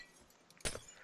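Glass panes shattering in the Wipeout video game: a single sharp, bright crash with tinkling fragments, brief and fairly faint within game sound.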